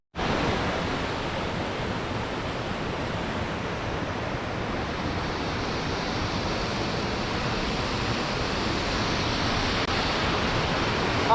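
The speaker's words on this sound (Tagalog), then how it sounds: "nandito na tayo sa ibaba nitong falls ng Awasen Falls" Awasen Falls in Ilocos Sur, heard from its base as a loud, steady roar of falling water, unbroken from start to finish.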